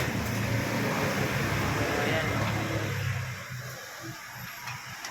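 Barako 175 motorcycle engine fitted with a stainless exhaust, idling with a steady low rumble that drops in level partway through as the revs settle, close to the microphone.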